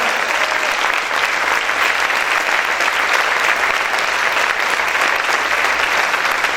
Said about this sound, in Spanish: Aplaude fuerte al Señor.